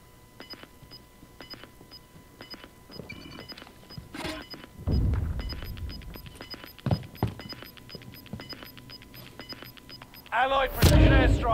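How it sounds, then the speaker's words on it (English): Airstrike explosions in the Call of Duty Warzone video game, Rebirth Island map, arriving as a burst of heavy booms mid-clip and a loud blast near the end, over steady gunfire clicks and game effects. "Allied precision airstrike in."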